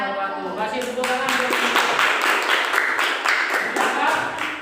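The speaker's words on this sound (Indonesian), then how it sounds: "Kasih tepuk tangan" Students in a Year 7 social studies classroom clap together after a group presentation, a dense, steady burst of hand claps filling the room for several seconds with a few voices mixed in.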